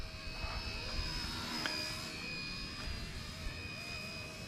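A small XK AS350 model helicopter whines overhead in wind with a steady high-pitched motor tone, shifting slightly in pitch as it maneuvers, moderately distant.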